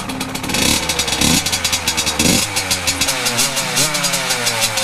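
A Yamaha YZ85 dirt bike engine sputters and revs in quick, loud two-stroke bursts, close by, rising and falling in pitch with a sharp crackling exhaust.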